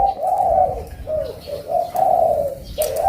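A songbird dove, one of a set of birds shown for sale, gives clear, medium-pitched coos in a steady series of rounded calls, close and loud with no talk over them.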